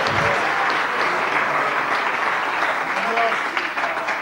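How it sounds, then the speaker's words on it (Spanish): Loud, dense applause fills a church during a sermon, continuous clapping from a congregation holding steady for the whole stretch with a slight trailing off near the end. "Denle un aplauso al Señor Jesucristo."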